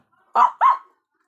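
A dog gives two quick barks close by, back to back, then silence.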